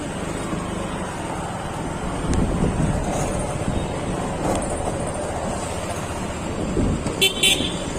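A car drives into the parking area of City Centre in Raipur, with a steady engine and road rumble under wind buffeting on the microphone, plus a couple of brief higher sounds near the end.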